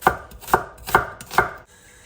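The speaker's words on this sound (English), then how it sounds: "I'm just gonna literally thinly slice these onions" A knife thinly slicing onions makes four crisp, evenly spaced chops on a board, close and clear, followed by a short quiet moment.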